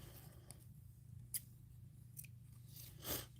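Scissors snip pom-pom yarn strings to even them out, giving a few quiet, sharp cuts spaced apart over a faint background hum, with a slightly longer snip at the end.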